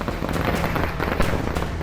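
Firecrackers going off at a Congress party victory rally in Dungarpur, Rajasthan: dense crackling bursts popping irregularly over a loud, continuous crowd-like wash, with sharper cracks standing out near the middle.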